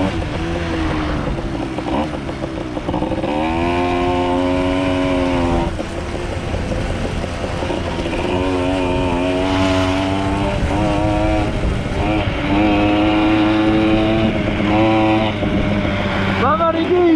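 Custom Motobécane AV88 moped engine fitted with nitrous, buzzing loudly up close and revving repeatedly in rising and falling waves, with people talking over it.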